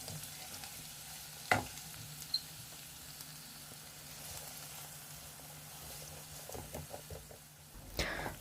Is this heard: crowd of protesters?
no